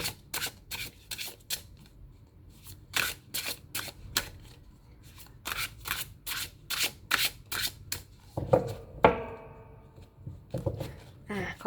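Tarot cards are shuffled and drawn in brisk, repeated riffling bursts, close and crisp, followed by a rustle and a card laid down.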